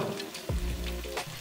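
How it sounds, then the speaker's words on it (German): Flat falafel shallow-frying in a pan of oil about half their depth, a soft steady sizzle and crackle with a few low thumps and scrapes, fairly quiet and close. "Flache Falafel könnt ihr auch prima in der Pfanne braten."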